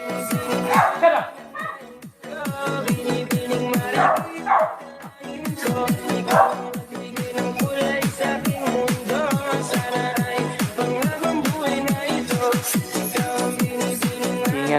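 Pet dogs bark and yip repeatedly under continuous loud background music and noise, with several whimpering, rising calls standing out over the steady din.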